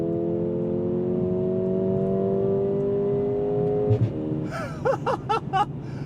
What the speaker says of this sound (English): downshift, and then build the boost and go, like there,